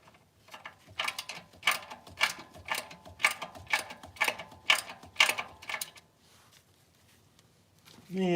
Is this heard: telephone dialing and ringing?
no